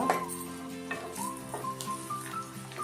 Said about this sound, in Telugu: ఉల్లిపాయలు వేసాక ఉల్లిపాయలు వేగుతున్నప్పుడు ఆ స్మెల్ భలే ఉంటుంది.